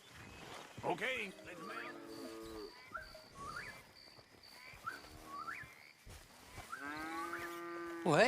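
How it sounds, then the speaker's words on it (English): A small herd of about twenty cattle lowing repeatedly in Red Dead Redemption 2, several drawn-out moos near and far with uneven pauses, a faint steady whistle-like tone in the background. "Cattle."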